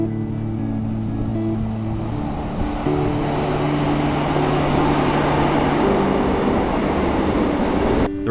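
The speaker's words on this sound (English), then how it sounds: "Shortly, we were crossing the River Clyst when we saw a train pass." A train rolls past close by near the River Clyst in the English countryside, a loud, steady rumble and rush of wheels on rail that holds for several seconds with a shift in tone partway through.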